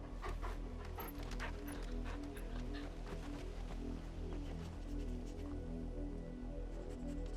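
A dog in the video game Final Fantasy XVI pants in quick, rhythmic breaths, soft and steady under a busy background of game ambience and scattered clicks.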